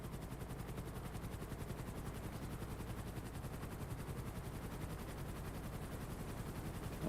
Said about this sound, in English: we got 5 helicopters in today